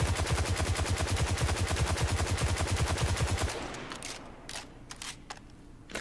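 Rapid automatic gunfire from a gun in the video game Destiny, a steady fast stream of loud shots lasting a few seconds, then a handful of scattered single shots and clicks with no talking.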